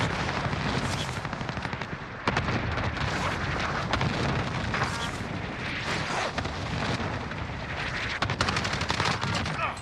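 Heavy gunfire fills a first-person shooter match, with continuous bursts of rapid automatic fire and booming shots, dense and loud throughout with little pause.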